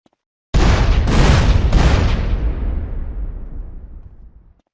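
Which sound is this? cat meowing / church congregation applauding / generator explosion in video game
generator explosion in video game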